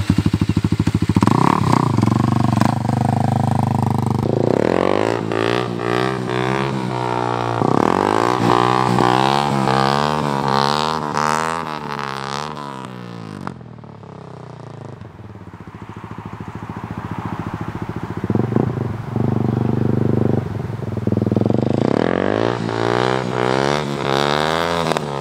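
Kawasaki KLX300 dirt bike fitted with a 13-tooth front sprocket revs hard in first gear for clutchless power-up wheelies, the engine note climbing and dropping in repeated loud surges, close by with no talking.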